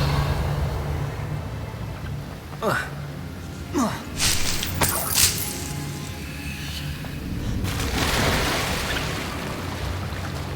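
In a Harry Potter video game, the Confringo fire spell goes off in several bursts: sharp whooshing blasts and crackling impacts over a bed of game music and ambience.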